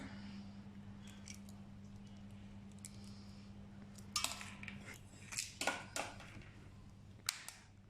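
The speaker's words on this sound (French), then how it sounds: "nous allons séparer les blancs des jaunes" Eggs being separated into whites and yolks for a speculoos tiramisu, with a low steady hum throughout and a handful of sharp clicks and taps of shell and bowl clustered in the second half, fairly close.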